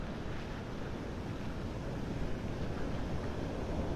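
Storm-driven surf and gusting wind roar steadily at Vanderbilt Beach in North Naples, Florida, during Tropical Storm Debby, a dense, continuous wash of breaking waves with wind buffeting the microphone, no voices.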